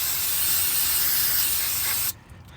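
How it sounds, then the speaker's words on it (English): Brake cleaner sprays from an aerosol can onto a brake rotor, a loud steady hiss lasting about two seconds before cutting off abruptly. "Take my can of brake clean. When I grab it, I spray it down like this."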